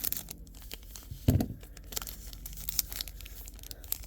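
Fabric scissors snip and tear open the foil wrapper of a Pokémon Trick or Trade booster pack, giving a sharp crinkling, ripping burst up close amid steady rustling of the packaging.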